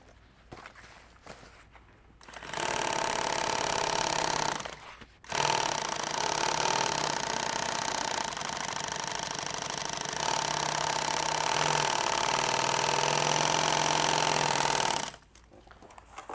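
A double-needle sewing machine stitches up close in two long runs split by a brief pause, its motor a steady, even whir with a humming tone, and quiet workshop stillness before and after.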